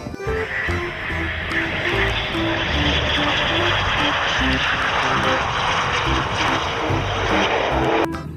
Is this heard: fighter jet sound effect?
yes